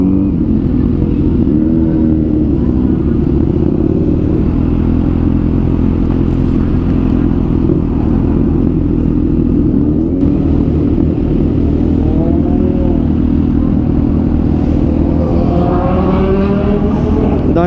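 Loud, continuous big-bike engine rumble with steady wind noise at a Motor Ace BMW dealership parking lot in Cavite, the revs climbing toward the end.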